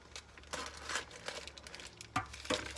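Plastic packaging on a corned beef brisket is cut and torn open in a kitchen, giving several short, close crinkling and slicing sounds in quick succession.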